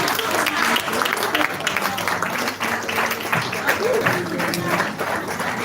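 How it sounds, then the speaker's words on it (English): Steady applause from a crowd at a farmland investors meeting fills the whole moment, a dense wash of clapping that holds at an even level throughout. "A round of applause."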